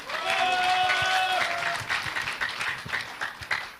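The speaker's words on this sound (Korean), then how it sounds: "큰 박수로 맞아주시기 바랍니다." A crowd at a Liberty Korea Party national convention applauds to welcome a party leadership candidate, a dense burst of clapping that gradually thins into scattered claps, with brief voices mixed in.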